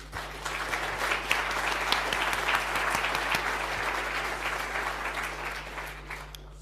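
Steady audience applause at a talk fills the room, a dense wash of many hands clapping that holds level and slowly fades toward the end, with a low hum underneath.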